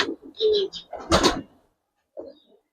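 Pigeons in a loft give soft throaty coos and murmurs in a few short bursts, close by, with a brief rustling clatter in between and a last coo after a pause; no talk.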